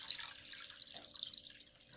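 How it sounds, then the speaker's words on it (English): Water running and splashing into a cooking pot holding about ten eggs, a continuous close trickle that stays at a moderate level. "You have to cover them with water all the way."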